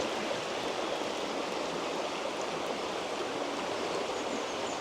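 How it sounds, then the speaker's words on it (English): River flowing in Craig y Nos Country Park, a steady broad rushing of water that stays even and unbroken throughout, nearby with no other sounds over it. "We have the lovely noise of the river at least"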